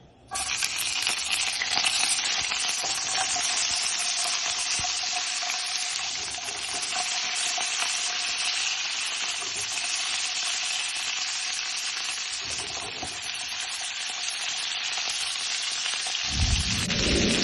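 Vegetables charring in a hot pot, a loud, dense, continuous sizzle right up close, holding steady throughout with faint stirring or scraping beneath.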